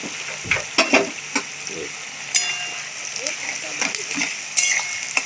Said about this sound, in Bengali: এখানে পেঁয়াজ ভাজতে দিয়ে দিয়েছি বেরেস্তার জন্য